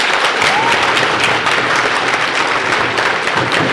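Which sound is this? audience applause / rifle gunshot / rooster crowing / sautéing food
audience applause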